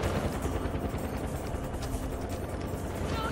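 A helicopter in the video game Far Cry 4 drones as a steady, loud, thick rotor and engine wash, constant throughout with no pauses.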